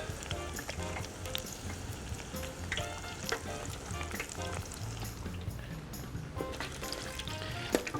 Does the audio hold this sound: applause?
no